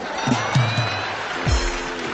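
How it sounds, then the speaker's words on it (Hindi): An audience claps at a comedy poetry gathering, a steady wash of applause and crowd noise lasting a couple of seconds, with a few louder low thumps mixed in. "ये सिर्फ वे लोग तालियां बजा रहे हैं जिनके घर में लगी हुई है।"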